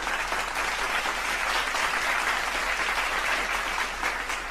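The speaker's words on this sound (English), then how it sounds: "Alright, let's clap it up." Steady, dense applause from a crowd of many hands claps continuously and evenly at close range, with no talk over it.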